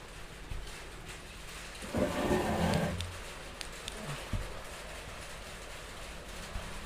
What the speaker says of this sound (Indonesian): Waduh, hujan di sini gede.